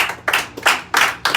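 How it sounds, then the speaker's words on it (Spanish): A church congregation claps hands in praise, a run of loud, rhythmic group claps at a steady beat, close and reverberant, with no voices over them. "Dale palmas al Señor."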